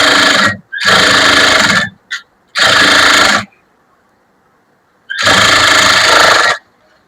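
Electric sewing machine stitching a blouse lining a quarter inch from the edge: loud, close whirring runs of about a second each, with short stops and one brief blip between them, no talk.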